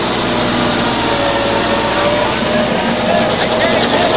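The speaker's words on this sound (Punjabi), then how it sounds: "ਇਹ ਭਾਈ ਟਰੈਕਟਰ ਚਲਾ ਰਿਹਾ" A tractor drives through a potato field pulling a potato-digging machine, its steady engine drone loud and continuous throughout with mechanical rattle, and no voices clearly standing out.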